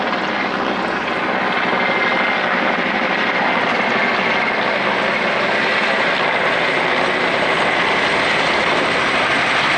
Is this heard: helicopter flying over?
yes